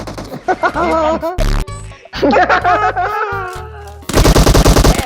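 Automatic gunfire bursts in the PUBG Mobile battle game ring out loudly in rapid volleys, interleaved with excited shouting voices, ending in a dense final burst.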